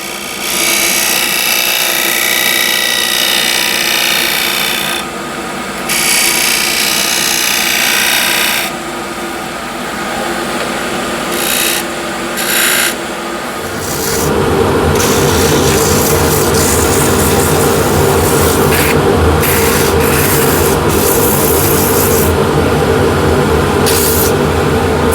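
Steady broadband whirring and hissing of sandpaper against a spinning wooden box made from an old window sill on a lathe, continuous and fairly loud, with a lower motor drone joining midway.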